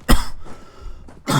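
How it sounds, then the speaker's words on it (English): Two harsh, close coughs from a man, one at the start and one at the end, with a quiet throat-clearing rasp between them. "This fucking cough."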